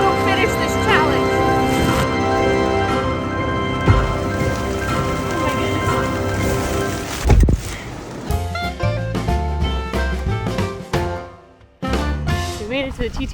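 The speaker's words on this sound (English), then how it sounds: "I really do think it's raining now." Rain falls at Disney World in a steady wash across the scene, layered under music and loud park noise with a brief sharp crack midway.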